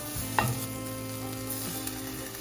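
Onion fries in a hot pan while cooking bulgogi, giving a quiet, steady sizzle with a brief clatter near the start and no voices.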